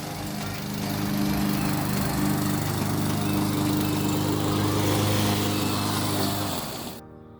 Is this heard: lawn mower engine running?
yes